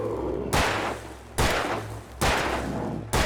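Four loud, evenly spaced gunshots in Alan Wake Remastered, each a sharp crack with a ringing tail over a low droning background hum.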